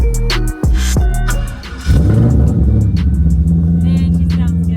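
A Chevrolet Corvette with an LS1 V8 rumbles loudly while driving, its deep engine note swelling through gear changes with brief dips, steady and close throughout.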